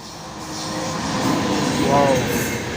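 Santhi Express hauled by a WAP-7 electric locomotive approaching and passing, a rising broad rumble of wheels and motors building over a few seconds, with faint voices nearby.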